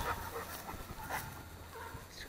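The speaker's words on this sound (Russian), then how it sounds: "Слушай, ты бешеный пес." A dog at a dog shelter whimpers and pants close by in a few short, faint whines and breaths, with some light background noise.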